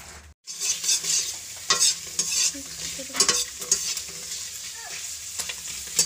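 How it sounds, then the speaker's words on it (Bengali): Potato chips frying in hot oil in a wok, a steady bubbling sizzle with scraping stir strokes throughout after a brief silent gap near the start, close and loud. "এই যে এখানে আমি চিপসগুলো ভেজে নিচ্ছি।"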